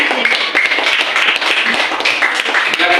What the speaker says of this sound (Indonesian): tepuk tangan untuk tim kelompok 3